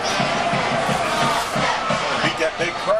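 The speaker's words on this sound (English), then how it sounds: "there's a nice crowd out there" Spectators at a 2003 high school football game, LHS versus JA, roar and cheer as a dense, loud mass with rhythmic chant-like pulses, and voices mixed in throughout.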